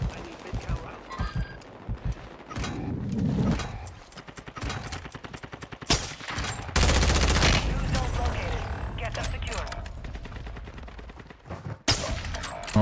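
Shots from an SP-X sniper rifle ring out in a Warzone match as sharp, separate cracks spaced several seconds apart. Gunfire and game noise fill the gaps, and a player speaks over it.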